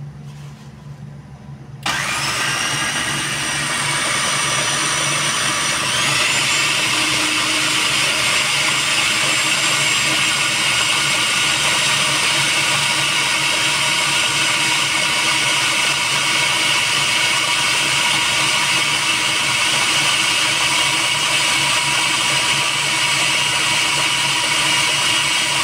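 A blender switches on after a short quiet moment and whirs loudly and steadily with a high motor whine for over twenty seconds, blending ingredients for homemade chicken masala; no one talks over it.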